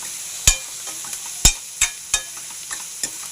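A spoon stirs cabbage curry in a pan, giving about seven sharp scraping knocks at an uneven pace over a faint background sizzle, with no talk.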